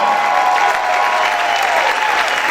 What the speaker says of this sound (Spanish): Aplaude fuerte al Señor en esta hora.